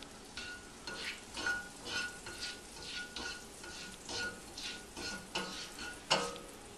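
Butter sizzles and crackles in a hot crepe pan, a soft steady frying hiss with small pops and faint ticks rising and falling, close by and without talk.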